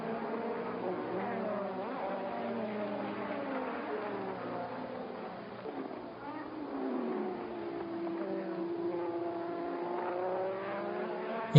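1984 Formula 1 race cars: steady, fairly faint whining engine tones that rise and fall as the cars race, with a brief dip midway.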